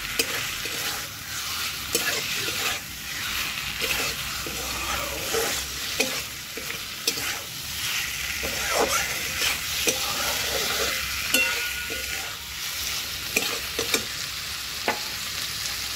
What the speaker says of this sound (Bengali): এবার আমি এই সেদ্ধ যে আলুগুলো করে রেখেছিলাম সেগুলো এবার দিয়ে দেবো। তারপরে মিশিয়ে নিচ্ছি।